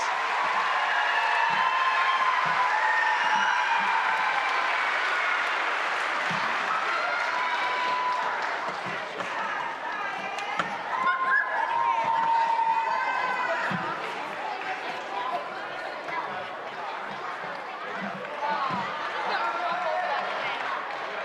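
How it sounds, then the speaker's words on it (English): Audience at an elementary school music festival applauds student performers from several elementary schools, with steady, dense clapping and cheering voices rising and falling throughout. "One more round of applause"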